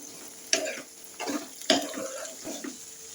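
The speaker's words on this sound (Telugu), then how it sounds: "అల్లం వెల్లుల్లి పేస్ట్ కూడా పచ్చివాసన పోవాలి కదండి ఇంకొక కొంచెం సేపు అయితే ఫ్రై చేసుకుందాం" Ginger garlic paste being stirred and fried in a pan, with soft scraping stirs in several bursts over a steady low sizzle, close by and fairly quiet, no talking.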